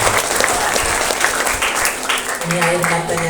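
A crowd applauds steadily with dense clapping throughout at an elementary school sixth-grade farewell ceremony in Indonesia, and voices rise near the end.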